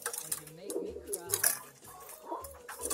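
Pigeons in a loft of show birds, cooing softly with a few low, rounded calls at a modest distance amid light rustling and faint background noise.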